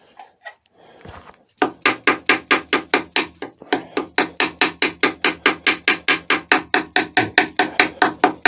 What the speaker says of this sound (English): I'm just tapping it there to drive any sawdust down into